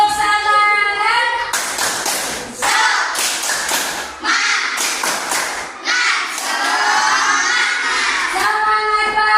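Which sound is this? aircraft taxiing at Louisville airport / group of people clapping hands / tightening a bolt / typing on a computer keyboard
group of people clapping hands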